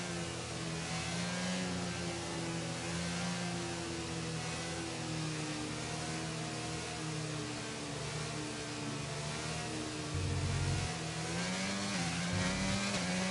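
A racing car in an F1 sim racing game drones steadily with a rising engine pitch as it pulls away, a continuous loud whine with no talk over it.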